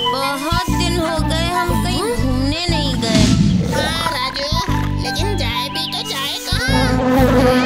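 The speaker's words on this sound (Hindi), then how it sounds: "जरा मेरी नाक के ऊपर से मच्छर उड़ा दो।" A cartoon mosquito from Chhota Bheem buzzes in whiny, wavering sweeps, loud and close, with animated character voices and music playing throughout.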